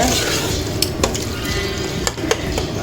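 A spoon stirring prawn gravy with salt in a pan, with soft scraping and occasional clinks of metal against the pan over a low sizzling bubble, close and continuous.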